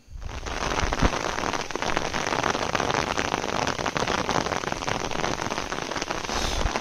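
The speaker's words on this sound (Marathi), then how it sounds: "पडतो आहे जोराचा पाऊस बघा, इकडे खूप पडतो आहे" Heavy rain pours down outdoors in a rural field, a dense, loud, continuous hiss of drops drumming on surfaces, close and steady throughout with no voices.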